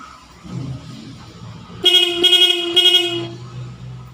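A loud, close motorcycle horn, with only one of its dual horns working, honks in a short series of pulsing blasts with a single steady tone, followed by low engine rumble.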